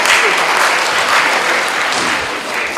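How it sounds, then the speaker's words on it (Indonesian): An audience at an Indonesian doctors' medical symposium applauds a speaker, a loud and steady burst of many hands clapping close together for the whole stretch. "Kita berikan aplaus untuk Dr."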